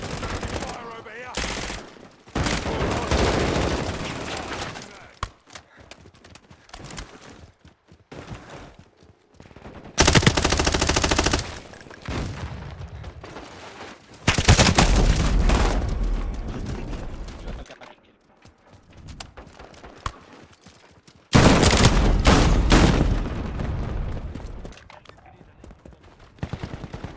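Bursts of heavy automatic gunfire from the video game Call of Duty MW4 come in several loud, sustained volleys separated by quieter gaps, with voices calling out between and under the shooting.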